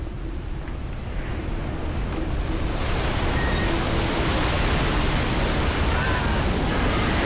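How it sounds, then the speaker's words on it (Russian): Ocean waves in the video game Call of Cthulhu make a steady, loud roar of surf and wind that swells slightly and never pauses. "Волны то, что надо."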